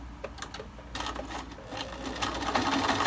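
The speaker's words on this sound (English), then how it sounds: "we're going to sew right over that edge" A sewing machine stitches over a strip of elastic along the edge of a fabric mask, a steady close rapid whir that builds slightly louder toward the end.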